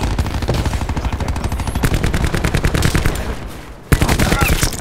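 Rapid automatic gunfire in the video game Call of Duty, loud and close, a dense stream of shots with a brief pause before another burst starts.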